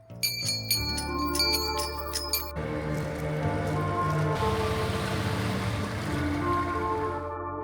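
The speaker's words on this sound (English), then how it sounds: "we simply rang the little bell to call the boatman" A small bell rung to call a boatman on a trip through Oman chimes several times in quick succession, clear and close. Then a steady broadband wash like water or wind follows.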